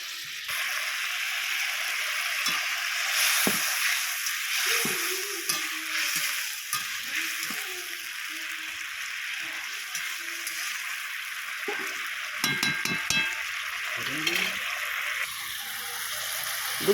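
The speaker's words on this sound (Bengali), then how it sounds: "এবারে আমি দিয়ে দিলাম মাছগুলো দিয়ে কিছুক্ষণ নাড়িয়ে চাড়িয়ে নেব।" Rupsa fish in a spicy oil gravy sizzles and bubbles steadily in a pan while a spatula scrapes and stirs it in repeated short strokes, close and fairly loud.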